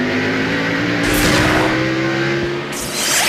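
Loud NASCAR race car engines roar at the 2002 Virginia 500, two cars sweeping past close by in quick succession with rising and fading high-pitched engine noise.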